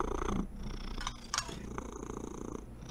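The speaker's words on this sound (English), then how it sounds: "He's purring like a motherfucker." A house cat purring steadily and close by, a continuous rumbling purr with no talk over it.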